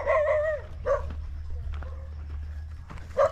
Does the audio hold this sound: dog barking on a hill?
yes